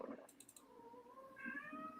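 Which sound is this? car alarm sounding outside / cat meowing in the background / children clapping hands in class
cat meowing in the background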